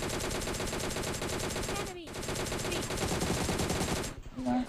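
Sustained automatic M4 rifle fire in PUBG Mobile Lite, a dense rapid spray of shots running almost nonstop, loud and close, with a brief gap near the middle and a short break toward the end.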